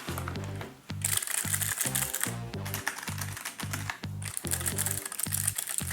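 Quiet keystrokes on a Keychron K3 keyboard, a steady run of soft clicky taps close up with a typewriter-like rhythm and only brief pauses.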